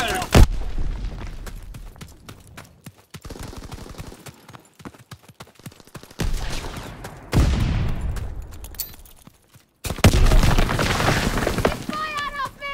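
Gunfire and artillery from the World War II video game Call of Duty WWII: loud bursts of rapid shots and heavy booming blasts come in several waves, with voices shouting over the battle.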